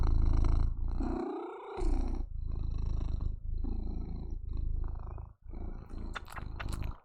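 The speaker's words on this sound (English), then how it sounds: "Are you purring?" Close, loud purring from a pet cat, rhythmic rumbling breaths rising and falling in several cycles with a couple of brief pauses, no speech over it.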